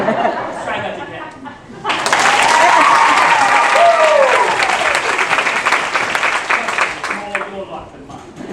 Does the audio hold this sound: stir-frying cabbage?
no